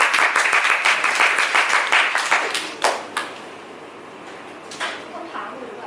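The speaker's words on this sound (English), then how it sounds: "You can clap with me." An audience claps after a talk, a dense burst of applause at close range that thins out and fades into scattered claps.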